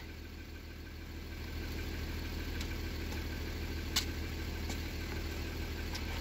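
An Audi/VW engine idles steadily with a constant hum while its intake manifold swirl flaps are actuated, with a few faint clicks and one sharper tick in the middle.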